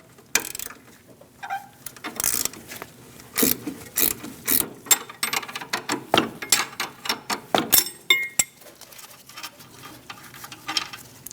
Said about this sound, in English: Using an 18mm wrench, loosen the nut for the sway bar link.